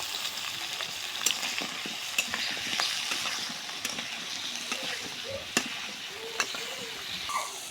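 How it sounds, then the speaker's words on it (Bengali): Pointed gourd and potatoes seasoned with turmeric and salt fry steadily in a pan, a constant close sizzle broken by sharp clicks and scrapes of stirring throughout. "ওইদিকে আমার পটল আলুটা ভাজা হোক"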